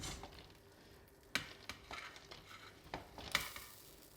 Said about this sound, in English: So I'm gonna put all the rice back in here.